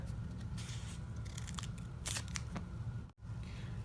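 Scissors snip through paper while a paper lightsaber is being made, giving several short crisp cuts close by with a brief pause near the end.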